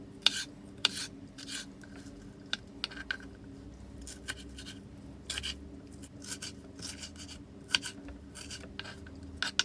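A knife cuts a capia pepper into strips on a cutting board, making a quiet series of irregular crisp taps and rasping strokes close by, with no talking.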